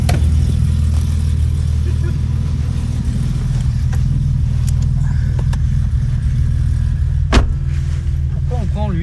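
A car engine runs steadily at idle, a loud continuous low rumble that holds even throughout, with a brief sharper knock near the end.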